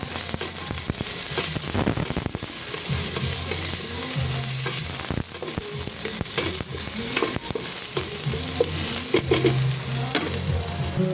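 Onions frying in a pan with ginger and garlic are stirred, giving a steady, close sizzle and crackle with scraping stir strokes throughout and no talking.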